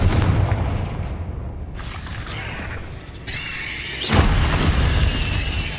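A Confringo fire spell bursts in Hogwarts Legacy during a fight with spiders: loud booming blasts and crackling impacts come in quick succession, with a sharp squealing tone partway through and a heavy hit near the end.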